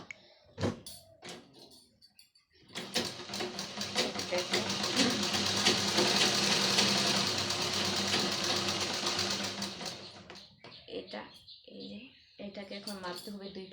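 Sewing machine stitching a cloth shopping bag, a fast steady mechanical rattle running for about ten seconds, bracketed by short clicks and handling noises before and after.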